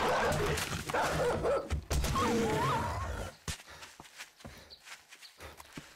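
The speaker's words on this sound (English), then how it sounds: "Oh, I hate these dogs. They circle around you." Hostile dogs in the video game 7 Days to Die snarl and bark in a rough, busy struggle with scuffling footsteps. After about three seconds it thins to scattered thuds and taps.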